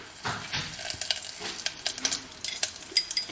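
Whole spices, cumin, bay leaf and a dried red chili, crackle and sizzle in hot oil in a pan, with quick spitting pops and faint stirring scrapes, close and steady without talk.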